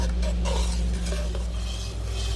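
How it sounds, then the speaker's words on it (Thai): A pad thai sauce of melted palm sugar and tamarind water is stirred in a pan. A continuous close, soft swishing stir sits over a steady low hum, with no talking. "คนจนน้ำตาลปี๊บละลายแล้วก็ใส่น้ำมะขามเปียก"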